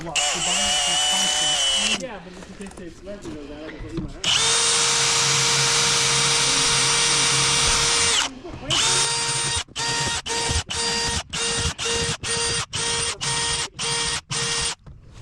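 A power drill with a 1/4 inch bit bores into the lip of a fiberglass swimming pool, whining loudly in long sustained runs and then in a rapid series of short bursts, close up.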